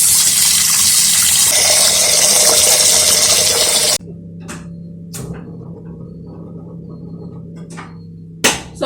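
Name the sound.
water running into a cooking pot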